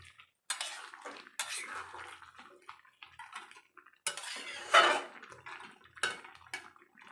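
Bitter gourd, eggplant and bori stirred in a pan for shukto, giving intermittent scraping clatters of a spoon against metal in bursts with quiet gaps, close and fairly loud, without talk.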